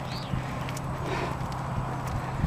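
Mares at the Irish National Stud walk close by a fence, their hooves giving soft, irregular clip-clop steps over a steady outdoor hum, with no talking.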